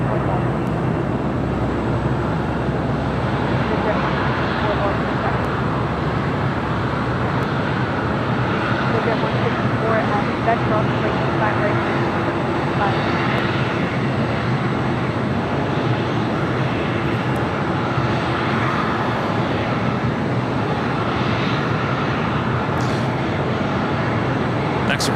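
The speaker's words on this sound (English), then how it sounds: "Southwest Airlines flight 1688 coming in from Houston, a 737 MAX 8." A Southwest Airlines Boeing 737 MAX 8 arriving at LAX from Houston produces a steady, broad jet rumble and roar that holds at an even level throughout, distant and unbroken, with faint airport ambience underneath.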